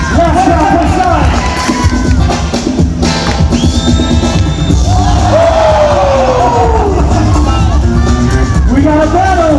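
A crowd at a kids' breaking battle, a freestyle session semi-final, cheers, whoops and yells continuously and loudly, with shouted voices and music-like tones mixed into the dense, unbroken roar.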